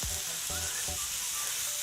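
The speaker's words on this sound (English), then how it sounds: "Listen to that sizzle." Ground beef sizzles steadily in a hot pan, a close, bright frying hiss broken by a few low thumps and clanks of utensils against the pan.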